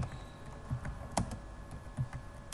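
Typing a question on a computer keyboard, with light irregular key clicks, a few louder taps, close and quiet with no speech.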